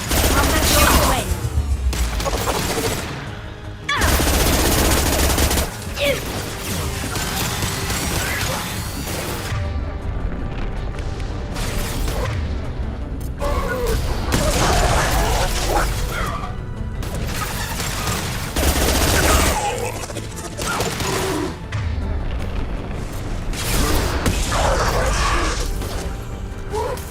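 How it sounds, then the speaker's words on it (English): Heavy automatic gunfire and crashing impacts in the sci-fi shooter Mass Effect 2, loud and nearly continuous across the whole stretch, with brief pauses between bursts and occasional voices under the combat. "Watch for heavy fire."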